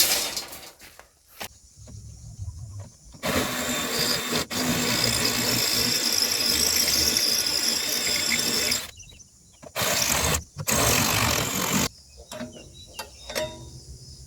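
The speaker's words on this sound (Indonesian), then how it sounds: "Kemudian kita lanjut proses pengeboran di tembok." Power drill boring into a masonry wall during a concrete canopy build, loud grinding bursts of several seconds separated by short pauses and quieter handling noise.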